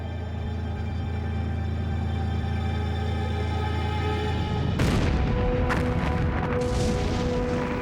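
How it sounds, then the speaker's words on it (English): WW2 artillery guns opening fire at the Alamein battle: a steady low rumble suddenly breaks into heavy booming blasts and crackling reports, dense and loud, with repeated sharp impacts over a continuous roar. "Suddenly, the guns opened up."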